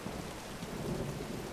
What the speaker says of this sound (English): The rain, the thunder, the lightning.